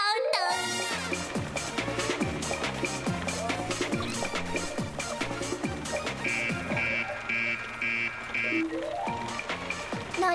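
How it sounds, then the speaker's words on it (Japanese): An electronic alarm in a Cry Babies Magic Tears toy cartoon sounds as a run of evenly spaced high beeps partway through, laid over busy, bouncy background music. "どうして警報が鳴ったの？"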